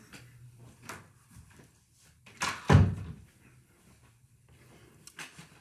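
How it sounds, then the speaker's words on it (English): An indoor door is pushed shut at home, giving one solid thunk that follows softer shuffling and handling noises and a brief clack before it, fairly quiet and close. "I'm going to close the door because my husband's about to walk in."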